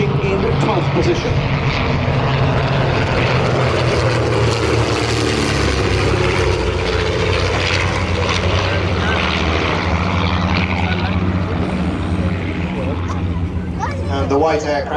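Propeller aeroplanes, a de Havilland DH-88 Comet and a Percival Mew Gull, fly together at an air display, a loud continuous engine roar with a slowly shifting pitch, under commentary and crowd murmur.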